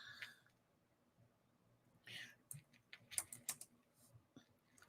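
Quick bursts of computer keyboard typing, a short run of clicks followed by a few sharper taps, fairly close but quiet, with faint room noise underneath.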